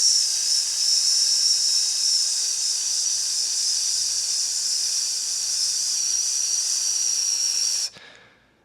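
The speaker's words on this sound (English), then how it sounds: "which is a term that we use for the hiss of the tea kettle in the chashitsu, the tea room." A tea kettle simmering on the hearth of a Japanese tea room gives a steady, fairly loud hiss of steam, unbroken for about eight seconds before it cuts off abruptly.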